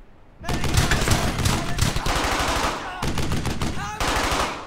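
A machine gun in the World War II shooter Brothers In Arms: Hell's Highway fires long, rapid, loud bursts of close automatic fire with brief pauses, with shouting voices mixed in.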